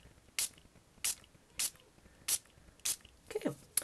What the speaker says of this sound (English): we will spritz that with the strawberry slush